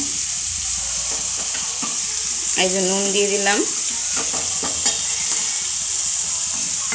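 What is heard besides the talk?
onion frying in a pan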